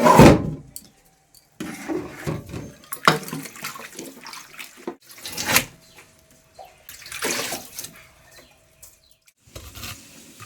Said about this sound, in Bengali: আলুটা ধোয়াও হয়ে গেছে এবার সবগুলো ধোবো